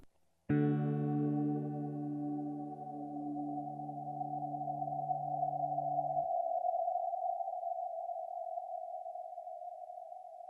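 A guitar chord is struck and held by a reverb pedal with resonance maxed, becoming a resonant, eerie drone that lingers and swells for several seconds, fairly quiet, with no voices.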